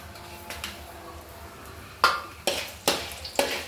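Dried red chillies fry lightly in a pan for a mint and tomato chutney, a low, faint sizzle under several sharp clanks and scrapes of a utensil against the pan toward the end.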